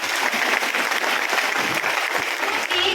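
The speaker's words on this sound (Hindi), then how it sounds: "तो एक बड़ी ताली होनी चाहिए आपके लिए।" Audience at a weight-management talk breaks into full, dense applause, a loud continuous wash of many hands clapping that holds steady throughout.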